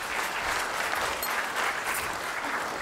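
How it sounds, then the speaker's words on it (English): An audience applauds a volunteer coming up on stage at a live science-of-illusion show, with steady, dense clapping that holds evenly from start to finish. "Let's give her a big round of applause."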